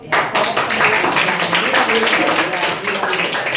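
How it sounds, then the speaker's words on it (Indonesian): Classroom applause, a steady dense patter of many hands clapping close by that fills the whole stretch at high level. "Aplaus untuk"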